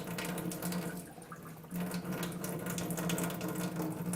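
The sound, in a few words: water dispensed from an electric water machine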